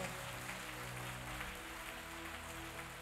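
A church congregation claps in acclamation for Jesus, a dense steady patter of hands over a sustained musical hum, continuous and fairly loud throughout.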